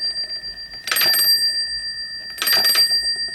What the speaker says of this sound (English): Oh, it does ring a bell when you turn it.